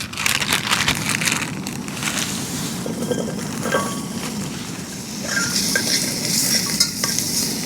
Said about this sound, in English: I'm gonna start with frying up the potatoes